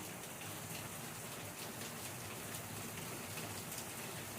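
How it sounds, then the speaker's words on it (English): Heavy Florida rain pours outside, a steady, dense, loud rushing hiss that continues without a break and with no voices over it. "Oh, it's pouring really hard. It's a Florida kind of rain."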